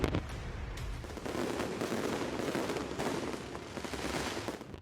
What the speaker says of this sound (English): Zhuhai in Guangdong launched fireworks to light up the sky